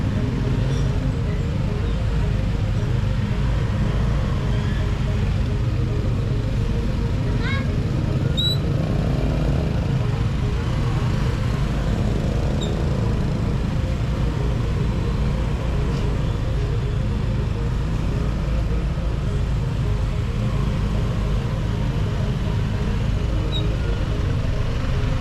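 Street traffic in Ubud, Bali, with cars and motorbikes giving a continuous, dense roadway rumble and a few faint horn-like chirps, with no voices.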